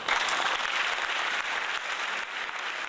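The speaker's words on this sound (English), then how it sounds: "please join me in giving a round of applause and a special thanks to those who've made this" Audience applauding at a military retirement ceremony for an Air Force lieutenant colonel, a steady dense wash of clapping from a crowd, sustained at an even level throughout.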